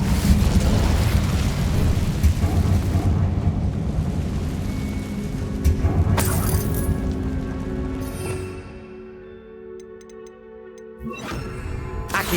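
Incendio fire spell in Hogwarts Legacy bursts into a roaring, crackling blaze that rumbles for several seconds before fading, with scattered ticking and a few sharp pops near the end.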